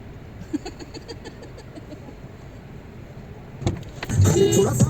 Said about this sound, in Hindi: अब वो गाड़ी लेके हमारी तरफ आ गए हैं।